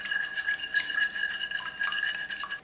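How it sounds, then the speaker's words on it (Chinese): Eggs beaten in a bowl with dissolved yeast and 20 grams of sugar for a steamed fa gao batter; a steady, rapid clinking and scraping of the whisk against the bowl runs throughout, close and alone. "把鸡蛋打散，所有食材搅拌均匀"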